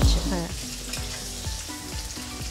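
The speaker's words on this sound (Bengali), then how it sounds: "ঠিক তেমনইভাবে এটা ভেজে নিতে হচ্ছে" Mushrooms for chilli mushroom fry in a pan with a steady, soft sizzle, overlaid by repeated descending tonal sweeps.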